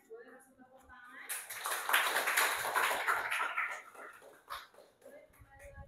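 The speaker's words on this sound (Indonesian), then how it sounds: "Give applause to group Evan and friends." A class applauds a student group after its presentation, with a burst of clapping that swells for a few seconds and then fades, mixed with chatter and a voice speaking before and after.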